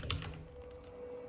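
A short burst of keystrokes on a Keychron K8 mechanical keyboard, a few close clicks at the start that fade quickly into a quiet hum.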